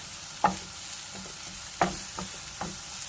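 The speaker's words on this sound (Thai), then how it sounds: "ผัดให้สุกก่อนเนาะ อผักเริ่มสุกแล้ว" Cabbage and other vegetables are stir-fried for spicy Korean noodles, a soft continuous sizzle broken by three or four sharp scrapes of a spatula against the pan.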